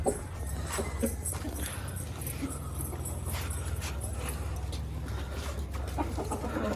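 A white hen and a white rooster clucking among a flock of pigeons in a coop, with scattered clucks and squawks over a constant low rumble and rustling.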